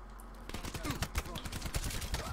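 Rapid, dense video-game gunfire crackles in quick bursts, moderately loud and near, for a couple of seconds with no talking.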